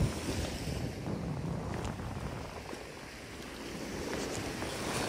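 Sea waves wash onto the beach at Imeretinka in Sochi, a broad, steady surf roar with gusts of wind buffeting the microphone and soft swells of water rising and falling.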